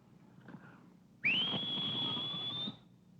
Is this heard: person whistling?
yes